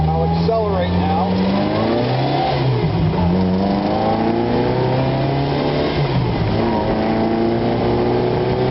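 A Bug Eye car's engine revs up as it accelerates while driving, with rising and falling gear-like pitch sweeps and loud, close engine drone. Wind buffeting sits in the background.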